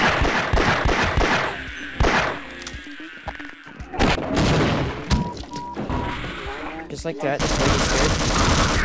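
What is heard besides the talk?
gunfire from the original Half-Life weapons in Codename Loop video game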